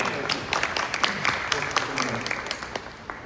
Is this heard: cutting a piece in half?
no